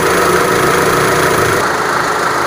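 Engine idling steadily with a simple homemade water injection system fitted, a continuous close mid-low rumble with slight vibration and no voices.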